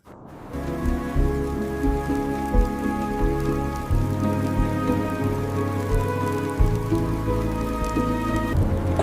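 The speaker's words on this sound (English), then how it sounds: "Cold rain arrives" Cold rain falls heavily and steadily on the ground, a loud, dense, unbroken patter with no voices.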